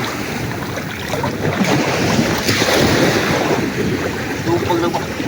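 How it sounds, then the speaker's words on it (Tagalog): Choppy sea waves slosh against a small boat at sea, with steady wind buffeting the microphone in a continuous, fairly loud wash of surf and spray. "medyo malon-alon ng kaunti dito sa tabi ay."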